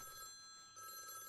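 A telephone rings indoors with a steady electronic trill that breaks briefly and resumes, fairly faint and heard without talking.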